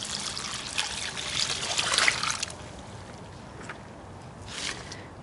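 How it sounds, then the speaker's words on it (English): Stagnant water from garden pots poured into another pot outdoors, a steady hissing trickle that swells to a fuller splash and then thins to a softer dribble, with no talking. "See if I can't fill that up with water."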